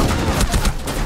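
Gunfire in Rainbow Six Siege, a close, loud rapid stream of shots pulsing steadily through the short moment.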